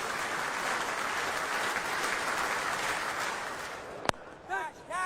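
Cricket crowd applauding a batsman walking off to the pavilion at an Ashes match, a broad roar of clapping that fades near the end before a sharp knock and a commentator's voice.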